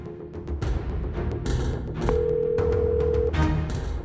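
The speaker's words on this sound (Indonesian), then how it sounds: "Saya coba dulu telepon Aleknya ya" A phone call goes unanswered amid a noisy, bustling setting, a single steady electronic tone sounding for about a second over loud background commotion and clatter.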